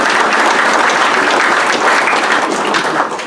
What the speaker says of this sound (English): So a round of applause for Alan Ring there